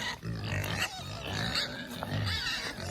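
Hungry pigs on a farm grunt and snort continuously and close up, a dense overlapping chorus of low grunts with occasional higher squeals throughout.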